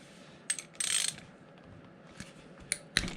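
A ratchet works on an 8mm coolant drain bolt on a 2009 Yamaha YZ250F dirt bike, giving a few sharp, close clicking bursts and one short ratcheting rattle with quiet pauses between them.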